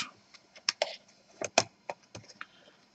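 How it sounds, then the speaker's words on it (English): Lenovo G580 laptop keyboard being pried up with a sharp tool, giving a series of close, quiet, irregular clicks and snaps in short bursts with small gaps between them. "Now, we take something sharp and try to lift the keyboard."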